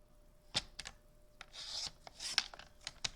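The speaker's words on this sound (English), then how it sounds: "Now let's grab our trimmer though" A paper trimmer slicing cardstock for a stamped card project, a few short scraping swipes and soft rasping strokes, close and quiet with no talk.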